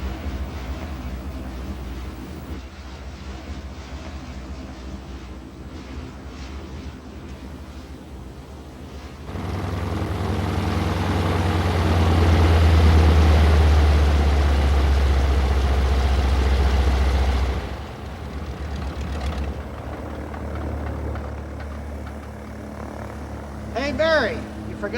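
A North American T6 propeller aircraft landing: a steady engine drone swells into a louder, deeper roar through the middle as the plane comes in, then eases back, with a voice talking over parts of it.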